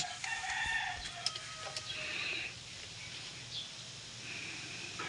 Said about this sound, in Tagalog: So napakaraming manok